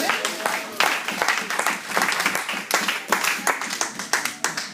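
Church congregation claps and cheers for the Lord during a sermon, a dense, lively burst of applause sustained throughout with rapid overlapping hand claps, loud and close.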